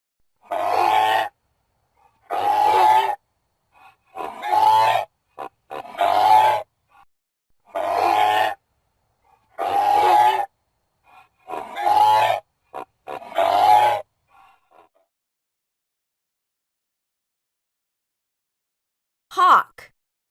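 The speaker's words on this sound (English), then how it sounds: "Goose." A goose calls in a series of about ten loud, harsh honks in a steady rhythm, close by, followed by a long silence and one last honk.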